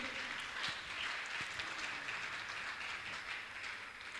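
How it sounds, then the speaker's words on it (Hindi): A crowd at a Jain monk's religious discourse gathering claps in a dense, even patter that stays fairly faint and distant for the whole stretch, with no talking over it. "तालियां बजनी चाहिए।"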